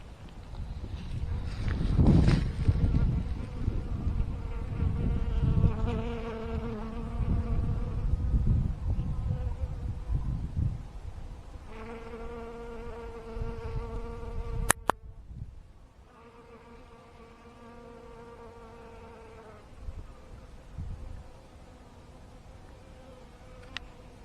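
Italian honey bees buzz around hives in an apiary on a cold February day, a steady layered drone close by, with tonal hums swelling and fading in separate passes and a quieter stretch in the second half.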